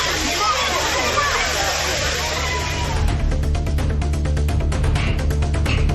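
The crowded Five Falls at Courtallam, where tourists bathe, gives a loud, steady rushing roar of water. Partway through, a voice starts talking over the continuing roar.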